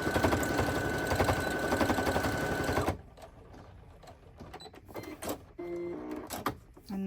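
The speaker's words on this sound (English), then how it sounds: "then stitch those together and do a back stitch at the beginning and the end" A sewing machine runs fast and loud, stitching a fabric key fob strip with a back stitch, then stops; quieter handling clicks and small rustles follow.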